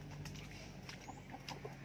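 Rooster chickens clucking close by in a short burst, with soft broken calls over steady outdoor background noise and no talk.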